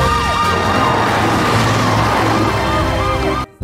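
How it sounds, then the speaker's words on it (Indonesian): Toy fire truck siren wailing in a repeating up-and-down pattern, loud and close, cutting off abruptly at the end. "ada mobil pemadam kebakaran Roy"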